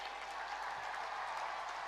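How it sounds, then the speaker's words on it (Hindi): Sustained applause from a large audience at an honour ceremony for Olympic athletes, steady and even throughout with a faint crowd hum underneath. "भाई तालियां रुकनी नहीं चाहिए"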